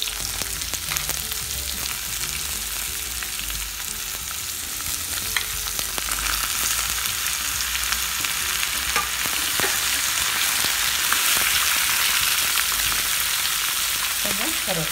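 Onion and mixed vegetables sautéing in hot oil with mustard seeds and fenugreek for Tirunelveli tiffin sambar, a continuous close crackling sizzle that grows a little louder partway through.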